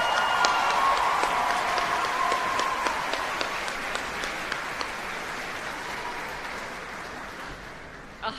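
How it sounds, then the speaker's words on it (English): Concert audience applause after a choir's performance at a gala, a sustained wash of many hands clapping that slowly tapers off over several seconds, with no talking over it. "Big round of applause again"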